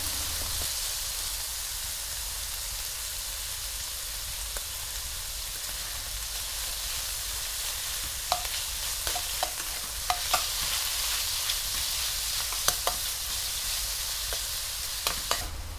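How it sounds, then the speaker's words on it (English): Chicken drumsticks fry in oil in a pan, giving a steady, fairly quiet hiss with occasional scattered pops and crackles and no voices. "Add the chicken. Spread it evenly on the pan and let it cook for a while before flipping it over so it becomes crispy and golden."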